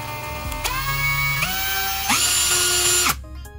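A brushless cordless electric drill with variable speed control whirs steadily, its pitch stepping up and down as the speed changes several times, then cutting off near the end.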